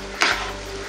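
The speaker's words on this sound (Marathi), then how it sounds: "कांदा लालसर रंगापर्यंत आपल्याला परतून घ्यायचा" Finely chopped onion sautés in hot oil in a pan for spicy mutton kheema, with one short scraping stir over a steady close sizzle.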